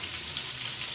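Pork sizzling and frying in hot oil with soy sauce, a steady close crackling hiss that runs unbroken for the whole second with no talking.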